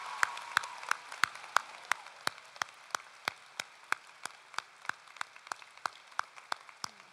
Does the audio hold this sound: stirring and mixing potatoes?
no